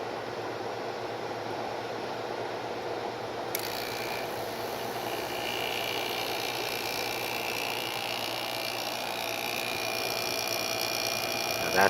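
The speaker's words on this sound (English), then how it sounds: "All right, let's fire up the compressor." An air compressor starts partway through as a noisy appliance is cleaned, then runs on as a steady mechanical whine over constant broadband noise.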